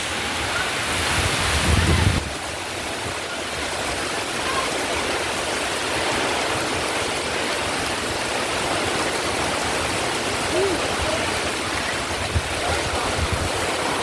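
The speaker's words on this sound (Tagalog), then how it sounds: "Biglang lumakas yung ulan at hangin." Heavy rain pours down in a constant dense roar during Typhoon Kristine in the Philippines, with gusty wind noise buffeting loudly at the start before settling into a steady downpour.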